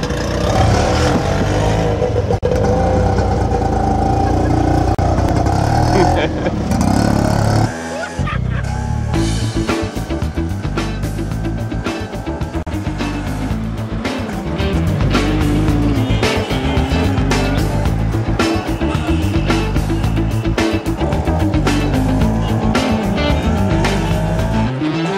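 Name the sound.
250cc auto rickshaw (tuk tuk) engine riding through Lahore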